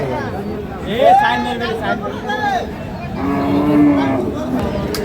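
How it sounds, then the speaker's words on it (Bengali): A cow moos loudly at a crowded rural cattle market (haat), with long drawn-out calls rising over constant chatter and people talking nearby. "গরুটিকে"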